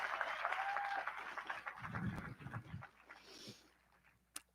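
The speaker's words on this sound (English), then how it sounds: "let's give them a round of applause." Audience at a high school graduation ceremony applauds in a dense, loud burst that gradually thins out and fades over a few seconds.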